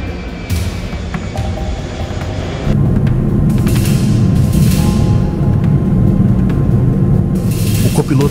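An airplane in flight gives a continuous engine roar and rumble that swells louder partway through, with a faint hum beneath and a voice speaking over it.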